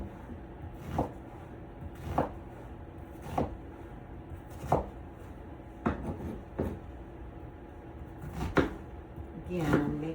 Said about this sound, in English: I'm making it fairly small, diced, cubed onion pieces